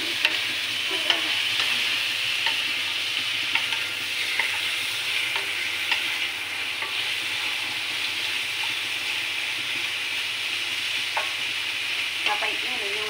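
Butter garlic prawns sizzle and fry in a pan with rice wine as a utensil stirs and scrapes through them, a steady hiss with scattered clinks and taps, no talking.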